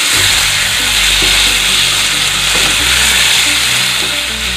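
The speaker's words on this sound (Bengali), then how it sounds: "ভালোভাবে ভেজে নিতে হবে" Chicken pieces frying in hot oil for capsicum chicken, a steady, close, continuous sizzle with a hissing, crackling texture throughout and no talk over it.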